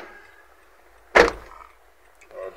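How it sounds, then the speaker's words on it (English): A single loud thump of a 2012-2019 Nissan Pathfinder's driver door stands out sharply in a quiet interior, followed by a softer mechanical sound a moment later. "Open and close the driver door once"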